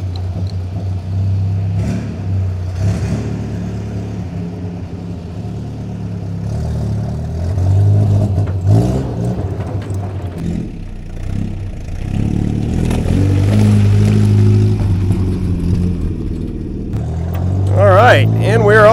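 A 1964 Jeep CJ5 barn find engine drives along with a steady mid-pitched drone that rises and falls as it revs, rattling and clattering throughout, loud and close, with occasional talk over it.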